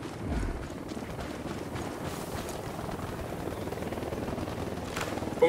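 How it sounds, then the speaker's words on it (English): Helicopter rotor chop from Ghost Recon Wildlands, a steady low whirring thrum filling the whole stretch alongside distant gameplay rumble, with no voices over it. "Don't need that chopper. Stay low."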